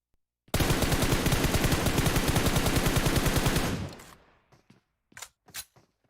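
An M4 rifle in a battle royale video game fires a long, rapid automatic burst lasting about three seconds, loud and close, then trails off into a few scattered clicks and quieter shots.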